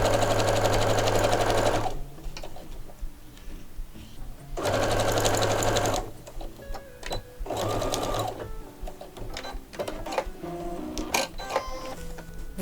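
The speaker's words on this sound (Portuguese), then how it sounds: "vamos à máquina passar uma costura reta na medida de pé de máquina" Sewing machine stitching a straight seam through fabric for a small zippered pouch, with backstitching at the ends; loud steady motor bursts of about two seconds each, followed by quieter handling clicks and rustles of the cloth.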